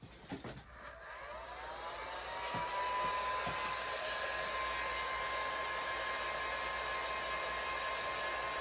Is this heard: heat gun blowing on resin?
yes